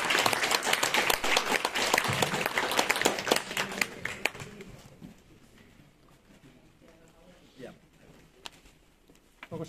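Lecture-hall audience applauding to welcome a speaker, a loud dense burst of clapping that fades out after about four seconds, leaving quiet room noise and scattered small sounds.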